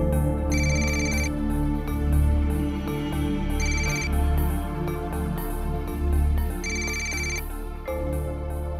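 A telephone ringtone plays in three repeated bursts of bright electronic chiming over a steady low background hum, loud and close, with no voices in between.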